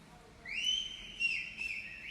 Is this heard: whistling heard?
yes